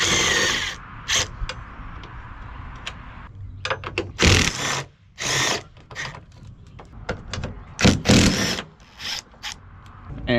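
Power tool zipping out the 10mm bolts on a hatchback liftgate strut, heard as several loud, separate bursts of whirring rattle close by, with short clanks and quiet gaps between them.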